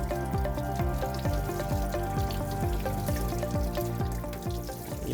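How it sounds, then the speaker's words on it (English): Running water pours steadily over an air filter being rinsed, a close, continuous splashing hiss with a faint underlying hum. "You want to run a good amount of water through it."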